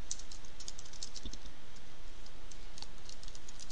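Typing on a computer keyboard in a text editor, rendered as a steady stream of light, quick key clicks over a constant low hiss, close and alone with no talking.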